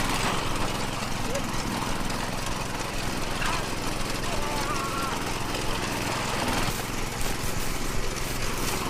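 A gasoline lawn mower engine drones steadily and loudly nearby, with a rough, buzzing hum that never lets up.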